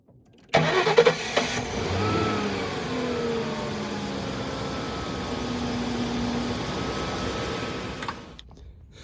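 A 1996 Lincoln Town Car engine cranks briefly and catches, then idles steadily for several seconds before cutting off, heard up close and fairly loud with no voices.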